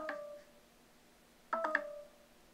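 An Android phone plays a repeating electronic tonal alert after a Chromebook triggers its locate-phone feature, heard as two short bursts of beeping tones, fairly quiet and close.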